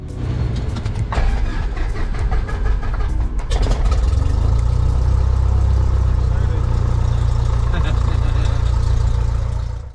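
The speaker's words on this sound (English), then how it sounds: "After the roughly 160 horsepower 4-cylinder engine came to life, it was time to taxi out to the runway." A Cessna 172P's roughly 160-horsepower four-cylinder aircraft engine turns over, catches and settles into a loud, steady running drone that fills the clip, close up, with speech faint beneath it.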